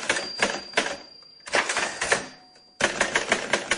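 Keys of a classic typewriter typing in rapid bursts of sharp clacks, three clusters separated by short pauses, a thin ringing tone under the gaps.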